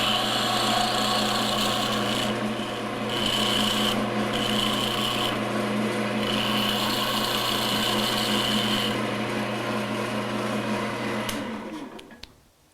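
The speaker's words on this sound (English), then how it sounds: "I'm going to switch back to my round tool and shave it down to just at the bushing" Round tool shaving a wooden pen blank down to the bushing on a wood lathe, a steady raspy scraping over the motor's constant hum that runs unbroken for about eleven seconds and then winds down.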